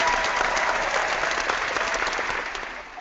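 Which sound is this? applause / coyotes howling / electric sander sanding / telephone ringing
applause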